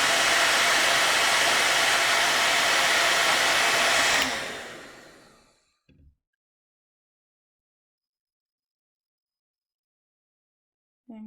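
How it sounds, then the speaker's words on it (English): A hair dryer blows with a loud, steady roar aimed down at paper to melt crayon for about four seconds, then winds down and cuts off into silence, followed by brief soft knocks. "I'm going to be aiming the hair dryer down at the paper"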